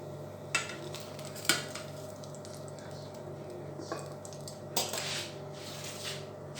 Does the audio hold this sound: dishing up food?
yes